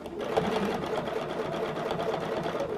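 A sewing machine stitching a quilt along a circle ruler, a steady fast whirring run of needle strokes heard close and fairly loud throughout, with no one talking.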